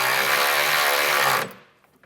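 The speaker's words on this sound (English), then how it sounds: "you can tighten the top down with that 14mm socket" A power tool with a 14mm socket tightening a bolt while an air bag suspension kit is installed, whirring loudly and steadily up close for about a second and a half before cutting off abruptly.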